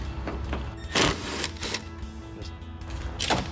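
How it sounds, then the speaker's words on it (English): A power drill backs out the 10mm screws holding a 2007-2013 Toyota Tundra headlight assembly to the body, with several short close whirring bursts separated by pauses. "I prefer drill"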